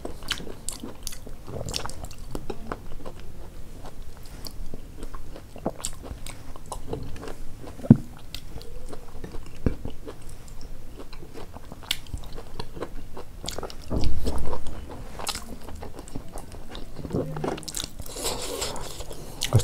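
Someone bites into and chews veg momo dumplings up close, with a steady stream of moist, crunchy bites and mouth noises and a louder muffled burst partway through; no one speaks.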